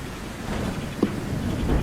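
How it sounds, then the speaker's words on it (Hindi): Heavy rain pours down in a forest at night with a dense, steady hiss and a brief thump partway through, loud and continuous with no voices. "अचानक से जंगल में तेज बारिश शुरू हो जाती है।"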